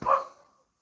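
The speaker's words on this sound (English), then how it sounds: "There's a dog barking outside" One dog bark outdoors, moderately close, short and sharp, trailing off quickly into quiet.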